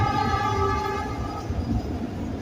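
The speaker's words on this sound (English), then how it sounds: "Marta train." A MARTA train passing with a sustained, droning rumble and faint tonal whine, steady and fairly loud throughout, no talk heard.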